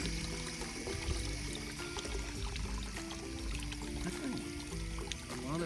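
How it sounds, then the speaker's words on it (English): Water pours and trickles faintly and steadily into the hose of an Intex automatic pool vacuum cleaner as it is filled to push out the air. "Put water in all of the hose."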